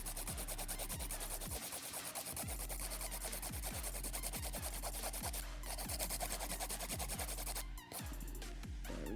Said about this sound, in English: I'm gonna take my nail file. This is an 80 grit file.